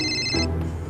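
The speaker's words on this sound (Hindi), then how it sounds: "अरे किसका फोन आ गया अभी?" A phone ringtone plays loud and close, a bright repeating electronic melody that cuts off abruptly partway through, leaving only a low hum.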